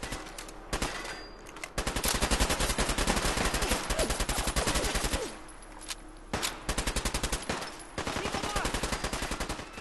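Automatic gunfire from the video game Fallout 4 rattles out in loud, rapid bursts, with brief pauses between long stretches of sustained shooting.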